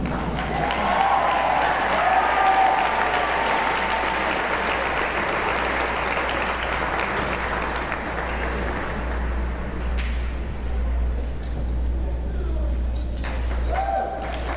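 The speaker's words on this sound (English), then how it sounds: "Give my principal a big round of applause, guys" A large audience applauds for a principal at a high school band and choir pops concert, with sustained dense clapping that tapers slightly near the end, with some voices mixed in.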